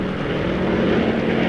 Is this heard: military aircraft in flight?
yes